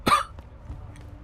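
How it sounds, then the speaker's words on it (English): A single sharp cough from a man with allergies, close and fairly loud, followed by quiet room noise and faint low rustling. "Pardon me if I let a few coughs slip through."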